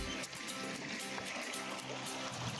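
Water flowing in a channel toward an old water-powered flour mill, a steady rushing wash with a bright, dense texture, continuous and fairly faint throughout with no voices.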